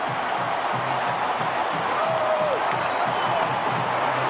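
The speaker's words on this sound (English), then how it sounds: "And listen to this crowd now." Stadium crowd at a college football game between Boise State and Oregon roars loudly and steadily after an Oregon touchdown, a dense sustained wall of cheering with a faint whistle-like tone rising through it.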